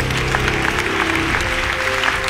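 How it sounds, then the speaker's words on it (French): Audience applause at a talk on burnout and psychotherapy, a brief dense patter of clapping that fills the moment, fairly near and moderately loud. "Un applaudissement."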